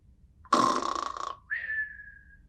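A voice imitates snoring: a long rattling, throaty inhale followed by a whistling exhale, loud and close.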